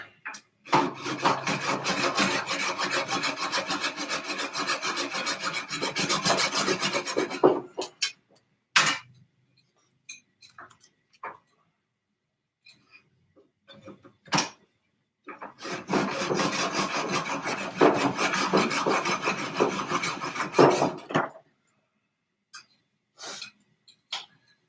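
Hand sawing through wood with a dull blade, two long bursts of steady rasping back-and-forth strokes separated by a pause with scattered knocks and clicks, close and fairly loud.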